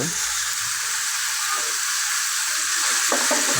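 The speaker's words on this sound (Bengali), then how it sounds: "এখানে একটু নাড়াচাড়া দিব, কিছুক্ষণ ভেজে নেব হালকা রংটা চেঞ্জ হওয়ার আগ পর্যন্ত।" Vegetables sizzling in a hot pan, a constant bright hiss of frying that holds steady, with a few soft knocks of stirring near the end.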